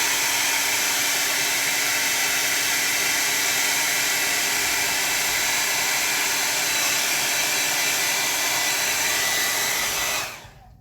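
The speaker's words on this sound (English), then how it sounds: "Let's do a quick dry off so we can get some white on there" A hair dryer blows steadily at close range for about ten seconds while drying gouache paint, a loud continuous whooshing roar that cuts off abruptly at the end.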